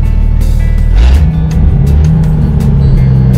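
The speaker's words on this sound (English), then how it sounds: "It actually sounds good except for the exhaust." A 1996 Jeep Cherokee XJ engine runs close by with a loud, deep exhaust note that rises briefly as it revs, then settles back to a steady rumble.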